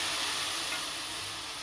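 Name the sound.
egg tarka spices frying and being stirred in a wok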